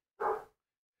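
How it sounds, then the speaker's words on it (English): A single short dog bark sounds from the background, clear and fairly close, with silence before and after. "There's my dog barking in the background."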